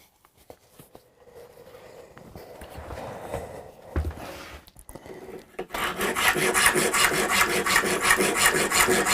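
A saw cuts through the wood of a Hofner Galaxie guitar body during a luthier's teardown, starting with scattered scraping before settling into steady, loud, rhythmic rasping strokes close by, with no talk.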